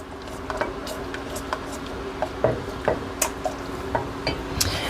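A spoon stirring Worcestershire sauce into a warm pan while making beef Wellington, a faint sizzle underneath with light, irregular metallic taps and scrapes against the pan.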